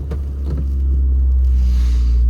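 A Peugeot 205 Junior's engine idles up close with a steady, loud low rumble, rising slightly as it runs, no voices over it.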